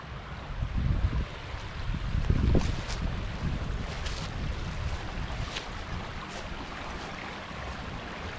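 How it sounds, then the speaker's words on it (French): Flowing water heard on a hike along the Drôme near Livron-sur-Drôme: a steady, loud, broadband rush with slight surges early on, continuous throughout and without any talking. "J'aime bien ce bruit d'eau."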